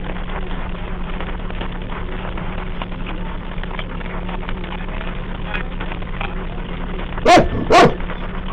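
A dog lets out two quick, loud barks close by, near the end of a long stretch of steady background rumble.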